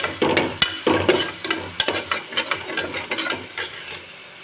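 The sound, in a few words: stirring onions and green chilli paste frying in a pan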